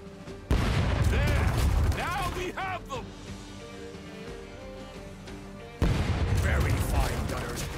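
Heavy booming blasts of cannon fire in the game Rogue Waters erupt in two loud volleys, with clanking effects and music between them.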